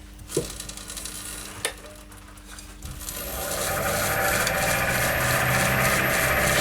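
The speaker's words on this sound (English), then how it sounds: "so I'm going to start hollowing out and see what happens from there" A wood lathe hollows a dish turned from offcuts. After a couple of sharp knocks it winds up into a steady, loud, rushing scrape as the cutter bites into the spinning wood, holding constant to the end.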